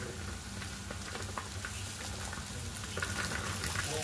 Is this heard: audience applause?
no